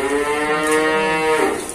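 A Limousin cattle calf, a heifer, moos once in a long, steady, harmonic call lasting nearly two seconds, close and loud with no talk over it.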